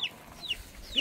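Chickens, with several birds squabbling over food, give faint, brief high clucks repeated about three times over a quiet background.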